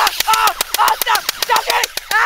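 A Well R6E M4A1 airsoft gun fires a rapid automatic string of sharp, close clicking snaps at an even rhythm, with no talk.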